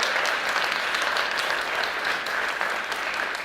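A crowd at a city Martin Luther King Day commemoration in Richmond applauds servicemen and women from Fort Lee with loud, continuous, even clapping that fills the space without any voices.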